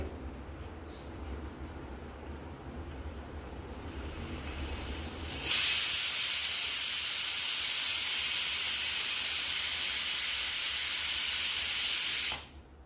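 A pressure cooker holding sprouted horse gram dal vents its steam after the whistles, a loud, sharp, continuous hiss that bursts in suddenly and runs steadily for about seven seconds before cutting off over a low background hum.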